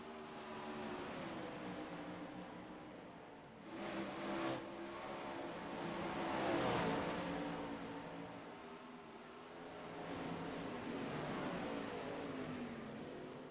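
Sim race cars lapping Williams Grove in a night racing video game, a steady engine drone with swelling revs and passing surges, loud and close, with no talk over it.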